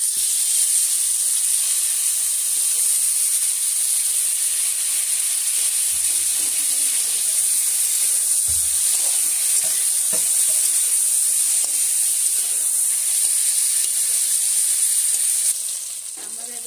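Cut eggplant pieces fry in a pan with turmeric and salt, giving a steady, bright sizzle and hiss that runs loud and even throughout, with a few soft stirring knocks near the middle.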